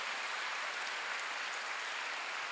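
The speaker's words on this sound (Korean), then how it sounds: "박수 좀 세게 쳐봐요" A church congregation at a Wednesday service claps steadily and densely, a continuous wash of many hands heard from within the room, with no voices standing out.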